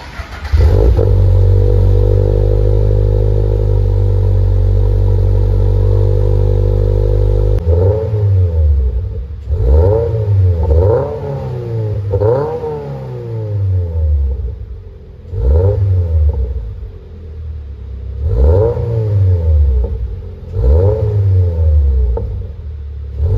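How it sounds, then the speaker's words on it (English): A car fitted with a Grimmspeed MAF hose idles with a loud steady drone, then is revved repeatedly in sharp rising and falling bursts, close and alone. "I'm gonna turn that car on, give it some revs."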